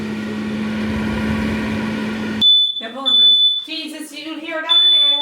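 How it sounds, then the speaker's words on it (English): A kitchen alarm gives loud, piercing high beeps in uneven bursts, following a steady background hum, with people talking over it. "Is that an alarm for old people?"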